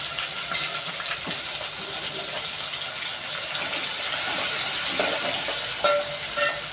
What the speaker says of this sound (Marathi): कांदा 2 मिनिटं परतून घेऊ।